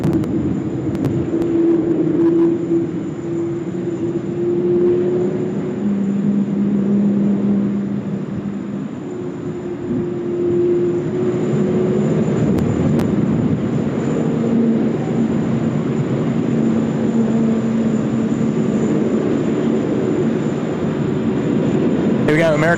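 An American Airlines airliner at Sydney Airport gives off a loud, steady jet engine roar with a low droning hum that holds through the whole stretch, while voices talk over it.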